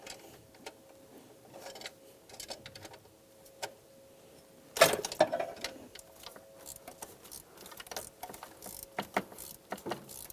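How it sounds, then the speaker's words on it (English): A 13mm socket ratchet clicks in short, uneven bursts while loosening a nut on a 2003-2008 Honda Pilot shift assembly, with a louder clatter of metal partway through, close and otherwise quiet. "I'm going to use the pair of pliers to hold the shift assembly as I use the 13mm socket to remove the nut"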